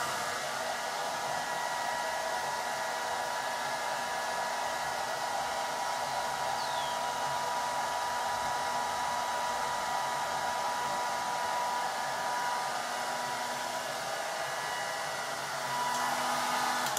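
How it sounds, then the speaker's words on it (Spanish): Hair dryer blowing on a decorated letter holder, a steady loud whoosh that runs without a break for the whole stretch, with no talk over it. "Tengo aquí el secador. Le doy en un momentito."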